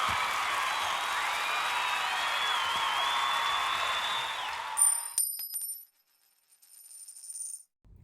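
A dense wash of crowd applause and cheering with high whistles roars steadily for several seconds, then cuts off into a bright ringing electronic chime and quiet.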